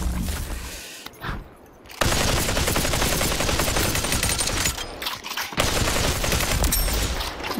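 Rapid bursts of gunfire from the VR shooter game Population: One, loud and dense, with a brief lull near the two-second mark and another short gap around five and a half seconds before the shooting resumes.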